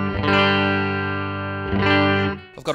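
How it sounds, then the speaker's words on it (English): An electric guitar through a Tube Screamer overdrive pedal with a compressor ahead of it rings out a thick, distorted sustained chord, restruck once, and ends with a scratchy strum. "also the tube screamer."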